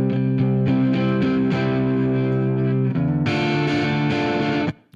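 An electric guitar played through an amp simulator with distortion and reverb rings out in sustained, heavily driven chords that shift midway to a brighter, fuller tone before cutting off abruptly.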